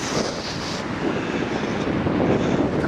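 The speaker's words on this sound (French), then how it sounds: "on prend tout le vent dans la gueule" Storm-force wind blows straight into a microphone outdoors, making a loud, constant roaring rumble that barely lets up across the three seconds, with no talking.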